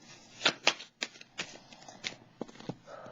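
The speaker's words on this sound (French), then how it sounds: "Je vais piger une carte ici." Tarot cards riffled and shuffled before one is drawn from the deck, a quick series of crisp papery flicks and snaps, close and moderately loud, with no voices.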